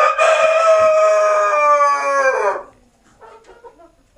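A rooster crows loudly and close by in one long, strained call, followed by a few softer clucks.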